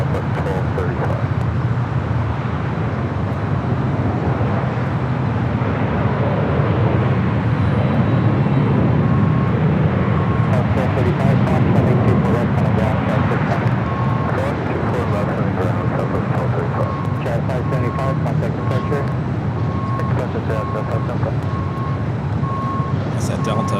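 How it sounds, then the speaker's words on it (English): A Delta Boeing 757-300 taxis toward the gates at Los Angeles International Airport, a steady broad jet engine rumble blended with airport and road noise, with a voice talking over it throughout. "That's at Delta 757 to 300 coming in from Atlanta, flight 895, now making that turn, heading to the gates"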